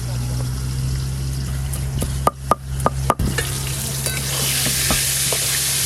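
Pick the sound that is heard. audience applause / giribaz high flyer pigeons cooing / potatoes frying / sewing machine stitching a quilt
potatoes frying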